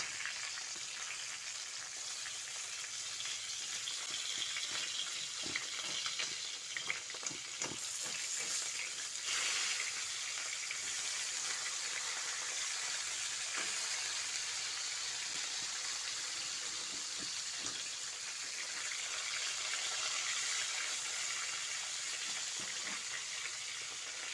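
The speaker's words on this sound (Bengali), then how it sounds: "মাছগুলোকে এবার উল্টে পাল্টে ভালো করে ভেজে নিচ্ছি" Marinated rohu fish pieces being turned and fried in hot mustard oil in a wok give a steady, loud, close crackling sizzle with small pops, running throughout with no talking.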